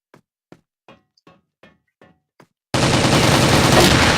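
Gunfire in the video game CrossFire: seven evenly spaced, crisp single shots in a row, followed by a sudden loud burst of dense noise.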